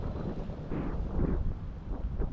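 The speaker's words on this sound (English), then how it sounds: "I apologize for the wind." Low rumbling wind buffets the microphone in uneven gusts on Portage Lake, Michigan, a muffled, blustery roar throughout with no voices.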